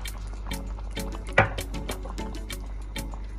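Lemon juice, about three spoonfuls, is poured into a simmering Persian celery stew with mint and parsley, making a brief, soft liquid trickle and splash among low kitchen bubbling.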